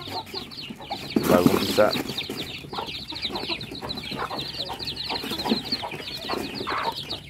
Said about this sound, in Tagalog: Meron tayong naglilimlim na dalawa. Ito yung may sisiw tayo